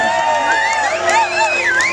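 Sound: audience applause and cheering at a blues festival

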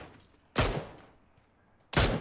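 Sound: gunfire in a video game

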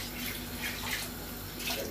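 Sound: pouring water into a cooking pot

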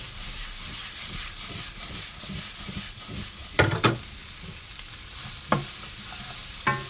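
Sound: stir-frying fish cakes (eomuk) on very high heat

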